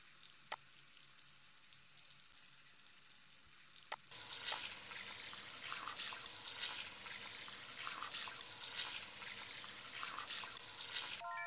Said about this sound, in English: Drag a vegetable under the running water to wash it.